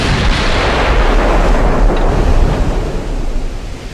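Heavy naval gunfire from battleships in the Ultimate Admiral: Dreadnoughts video game, including 14-inch guns, a loud, dense, continuous rumbling roar of booms filling the whole clip with no speech.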